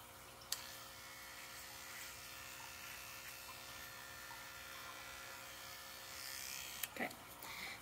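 Electric clippers buzz with a low, steady hum while shaving a Doberman's head during grooming, faint and continuous with a couple of small clicks and bumps as the blade moves.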